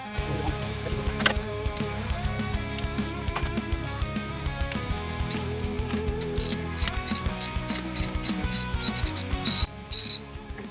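Rapid clicking of a ratchet wrench backing out valve cover bolts on a Ford Bronco, heard close and loud in long steady runs with brief pauses, with no talking over it.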